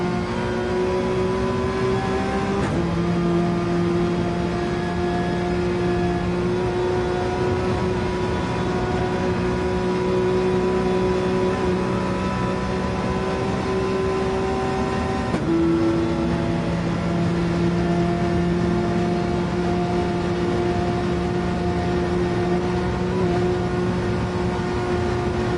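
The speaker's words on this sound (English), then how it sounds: "let's use a little bit of onboard and enjoy the Porsche engine sound" Porsche race car engine heard onboard during the Nürburgring 24 Hour race, a loud sustained engine drone rising and falling in pitch through gear changes, with two sharp shifts, continuous and close with no talking.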